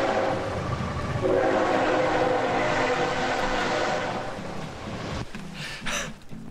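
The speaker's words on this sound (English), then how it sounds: "How do y'all sleep with that train so close?" A train passing very close behind a backyard, a loud sustained rumble and roar of rail cars that fades toward the end, leaving a softer clatter, with no talk.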